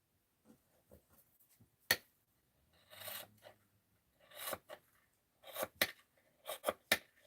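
Scissors whacking through bundles of thread for tassel making, a series of close, sharp snipping and rasping cuts with short pauses between them, ending in a quick run of crisp snips.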